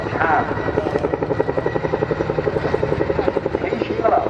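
A Chinook helicopter flying at an RAF Cosford air show gives a loud, steady rhythmic blade thump with a throbbing buzz that continues throughout, close and powerful.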